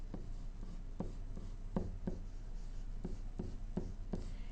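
A pen or pencil writing out a math problem on paper, with soft, quiet scratching strokes in short irregular bursts, close and faint.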